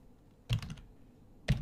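Typing code on a computer keyboard, two short bursts of quick key clicks about a second apart, close but quiet against near silence.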